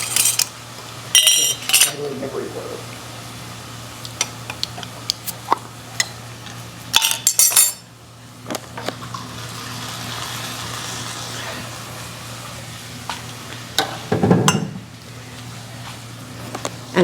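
Home-canned tomato pasta sauce is stirred into a casserole mixture in a pot, with intermittent utensil clinks and scrapes against the metal over a low steady hum.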